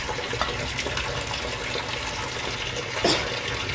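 Hot water being drained out of a pot of boiled potatoes, a steady close splashing pour with a brief louder slosh near the end and no voices.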